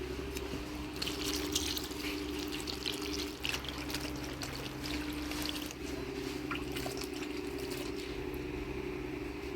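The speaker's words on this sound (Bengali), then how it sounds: "গুলা কাইটা নিলাম এখন ধুয়ে দেবো জল দিয়ে" Cut vegetables are washed with water in a rural home kitchen, with water splashing and trickling steadily beneath a constant low hum.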